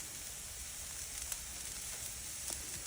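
Onions frying on a Blackstone flat-top griddle make a faint, steady sizzle with a few soft ticks and pops, heard alone without talking.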